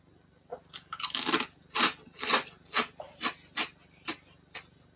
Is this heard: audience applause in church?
no